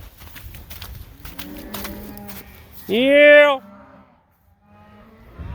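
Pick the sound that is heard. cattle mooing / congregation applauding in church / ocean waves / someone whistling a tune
cattle mooing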